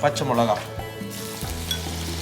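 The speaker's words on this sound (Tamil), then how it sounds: "ஃப்ரை ஆனதுக்கப்புறம் கொஞ்சம் பச்சை மிளகா." Fennel seeds and green chili fry in a hot pan with a steady, close sizzle and crackle, with some stirring, and a brief tonal sound near the start.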